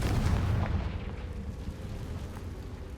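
A Confringo fire spell bursts with a heavy, booming blast in Hogwarts Legacy, loud at the onset and then rolling into a sustained low rumble that fades slowly over a few seconds.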